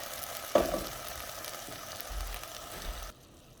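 Tomatoes, onion and garlic cooking down in a pan for Mexican beef soup give a quiet, steady sizzle, with a brief clatter near the start, before the sound cuts off abruptly.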